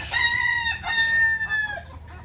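Chickens and a rooster on a farm raising upgraded native chickens: a rooster crows loud and close, with clucking hens around it, over about two seconds with no talk.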